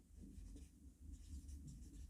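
Chalk or marker scratching across a board during a chemistry lesson on naming compounds, a short continuous stretch of faint, steady writing strokes.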